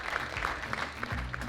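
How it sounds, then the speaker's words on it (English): The audience at a poetry recitation contest applauds its contestants, with brief, moderately dense clapping and some crowd murmur underneath, heard from a little distance. "One more round of applause for all of our contestants"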